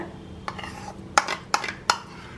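Beaten hung curd being mixed in a bowl with a spoon for a low-calorie dinner dish, giving a few sharp clinks of metal against the bowl amid softer stirring scrapes, close up.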